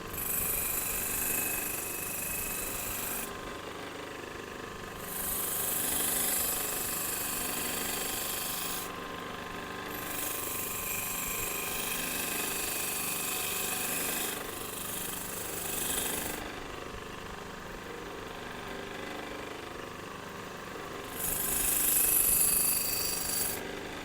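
A slow-speed sharpening machine spinning at 1450 RPM while rubber scissors are worked on it, a continuous grinding rub with a bright high hiss that cuts in and out over a steady motor drone.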